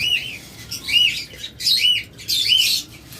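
Caged lovebirds kept for sale chirp in bright, close bursts, three or four clustered calls separated by brief pauses.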